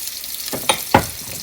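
Soft frying sizzle of thalipeeth flatbread on a hot griddle, with a couple of brief scraping, crackling bursts close up, quiet and without talk.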